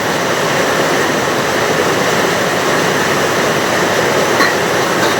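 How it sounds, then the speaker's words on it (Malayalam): Heavy monsoon rain pours down steadily outside a house in Kerala, a dense, continuous roar of falling water that stays loud and unbroken throughout, with no voices. "നല്ല മഴയാണേ"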